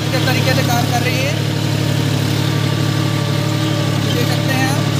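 A tractor pulling a new 2023 maize seed drill in low gear at about 1300-1400 RPM runs with a steady, loud, vibrating drone, while someone talks over it.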